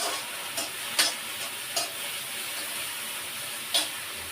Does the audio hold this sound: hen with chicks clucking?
no